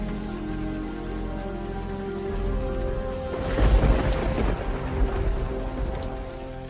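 Steady rain patters on a surface while a deep roll of thunder builds and rumbles through the middle, then fades back into the continuous downpour.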